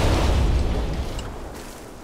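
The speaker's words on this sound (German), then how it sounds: "Also ein explodierendes Fass." A barrel explodes in Ghost Recon Breakpoint, a loud, deep boom already in progress that rolls off and fades into a rumbling decay over about two seconds, with no voices.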